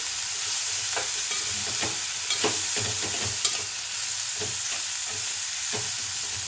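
Onions fry in oil in a pan with a steady, close sizzle, and a utensil scrapes and stirs through them in repeated irregular strokes.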